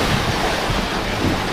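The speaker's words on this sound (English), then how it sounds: "Out behind me, that's the Atlantic Ocean." Waves and wind on the open Atlantic Ocean seen from a sailboat: a loud, steady wash of surf with gusting wind buffeting the microphone, no speech.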